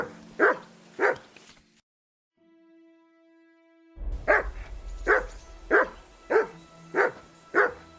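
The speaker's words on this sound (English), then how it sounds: "That barking was a pain in the ass." Repeated close barking from a dog in Kingdom Come: Deliverance 2, a couple of woofs, then a quiet gap filled by a steady tonal hum, then six more evenly spaced barks over a low rumble.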